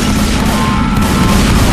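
Heavy, dense gunfire blasts out in a Left 4 Dead 2 zombie shooter on a custom map, loud and continuous, booming low shots overlapping with no clear gaps and no speech.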